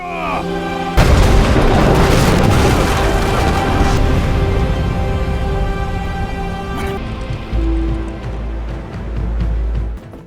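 Heavy cannon fire booms out in a dramatized naval battle against a Japanese invasion fleet, a big blast followed by rumbling bursts layered under tonal music.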